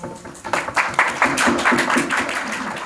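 An audience clapping at a film screening Q&A, a steady, fairly close ripple of many hands that continues throughout without voices over it.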